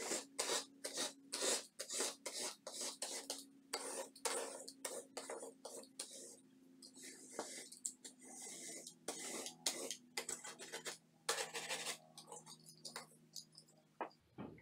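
A hand scraper works burnt-on oil off the glass door of a very dirty oven in a long series of quick, close, raspy strokes with brief pauses between them.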